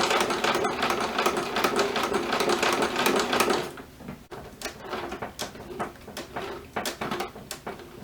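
A sewing machine stitches along the waistband of a pair of jeans being taken in, running in a steady loud whir for about four seconds, then breaking into shorter bursts and pauses with light handling clicks.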